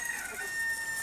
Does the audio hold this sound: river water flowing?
no